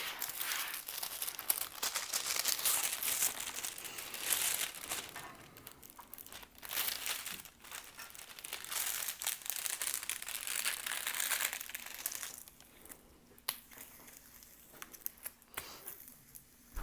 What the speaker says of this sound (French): Je vais remettre le plastique.